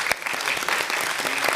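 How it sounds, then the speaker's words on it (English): Conference audience at Astana Finance Days 2022 applauding the speakers after a legal and tax session in a hall: brisk, steady clapping from a sizeable crowd, close and even throughout. "Let's give a round of applause for our speakers."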